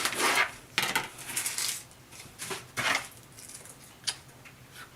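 Knife cuts through a red onion on a board, giving a few sharp, close taps and clacks in an uneven rhythm with no voices.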